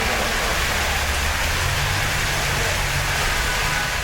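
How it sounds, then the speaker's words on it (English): Heavy downpour in front of a hotel, a dense, steady roar of rain falling without a break, loud and close throughout. "in the downpouring rain"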